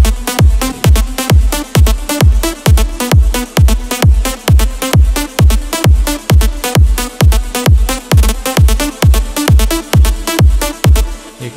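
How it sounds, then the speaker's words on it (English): Loud synth lead in a future rave track, ducked by sidechain compression under each kick drum, producing a steady rhythmic pumping swell between hard, regular kick hits throughout. "You can see it's pumping down the lead and giving that crazy sidechain effect"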